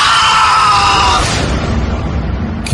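A loud, sustained scream in a horror story, shrill at first and then fading into a lower rumbling tail, alone with no talk.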